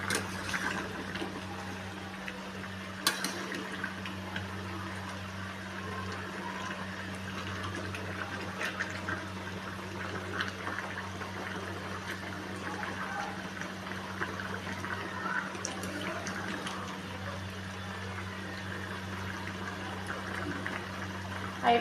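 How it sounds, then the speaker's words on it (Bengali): Chicken curry with potatoes simmers in a covered pot, giving a faint, steady bubbling and hiss over a low continuous hum, with occasional small clicks. "দেখছো তরকারিটা সুন্দর ফুটছে।"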